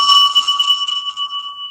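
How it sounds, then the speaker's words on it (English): A single bell is struck once, ringing loud and clear with bright sustained tones that slowly decay over about a second and a half. "I like the bell. Do it again one more time."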